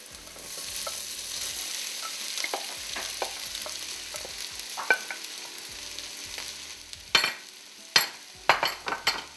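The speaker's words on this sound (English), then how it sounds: "I'm going to add the potatoes in." Potatoes go into a frying pan of cooking vegetables, with a steady sizzle under scattered scraping stirs that grow louder near the end as they are mixed in.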